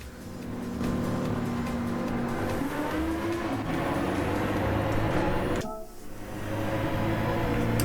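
A BMW M6 race car in Gran Turismo 7 roars at a sustained high engine pitch that climbs through the gears, dips sharply for a moment, then surges back to full volume.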